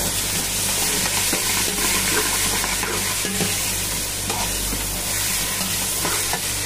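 Tomatoes hitting frying masala in a pan for an Arabic-style dish, a loud continuous sizzle and bubbling crackle up close, with no talking.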